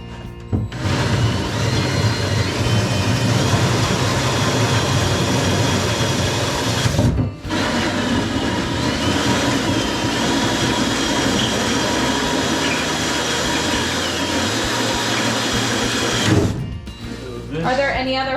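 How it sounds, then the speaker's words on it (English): A hole saw bores through the finished side of a kitchen cabinet during a sink install, a loud, steady grinding whir that breaks off briefly partway and then runs on before stopping. "I want to use the hole saw through the finished side so that it makes a nice cut instead of a jagged cut."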